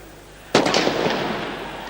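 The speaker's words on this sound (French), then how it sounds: "alors que l'on tire un pétard, mais c'est pratiquement un obus de canon qu'on a entendu résonner" A firecracker set off by the crowd at a European Cup group-stage football match between Anderlecht and Panathinaikos bursts suddenly with a loud, booming crack that echoes and fades through the stadium.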